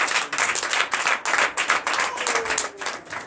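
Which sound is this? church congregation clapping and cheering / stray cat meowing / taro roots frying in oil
church congregation clapping and cheering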